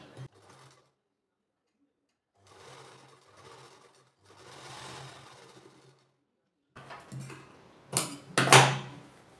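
A sewing machine stitches a kurti seam in short bursts of mechanical whirring with gaps of silence between them, ending in a louder, faster run close by.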